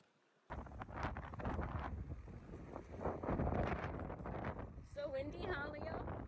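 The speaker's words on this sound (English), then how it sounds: "So windy" Wind buffets the microphone outdoors at a Halloween trunk-or-treat in Misawa, gusting roughly and loud throughout, with people talking over it.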